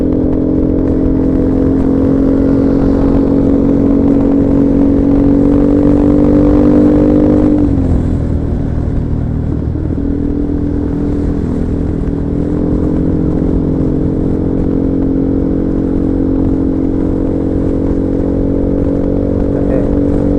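A motorcycle engine on a Sunday morning group ride drones loud and close at a sustained high rev, dipping briefly midway before climbing back to a steady roar.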